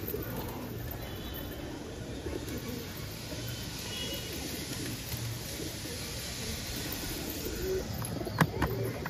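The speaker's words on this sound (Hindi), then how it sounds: "भाई का दूसरा कबूतर भी उतर चुका है, पकड़ते हैं" Pigeons coo softly as they land on a rooftop where grain is scattered, low murmuring calls over steady outdoor background noise, with a brief sharp sound near the end.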